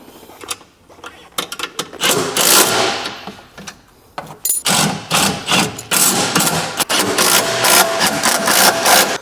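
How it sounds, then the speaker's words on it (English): Impact wrench tightening the bolts of an Atlas 2-inch hitch receiver on an Atlas golf cart, in loud repeated bursts of rattling hammering with short gaps between them. "Impact back on here."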